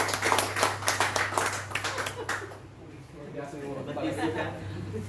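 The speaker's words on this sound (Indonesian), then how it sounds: "Kalau tepuk tangan, jangan tanggung-tanggung." Church congregation clapping hands at a service, a dense rhythmic patter of many hands in the first half that thins out, with talk and a steady hum underneath.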